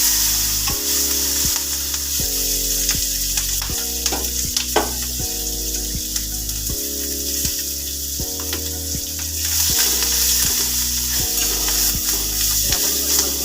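Capsicum sautéing in oil with asafoetida and turmeric, giving a loud, continuous close sizzle with occasional stirring scrapes, under steady background music.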